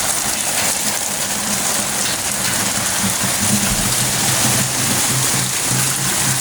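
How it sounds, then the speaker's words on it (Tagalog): Heavy rain from a black rainstorm pours down steadily, a dense, loud hiss of drops drumming on surfaces with no break, close and enveloping. "grabe ulan, too much rain"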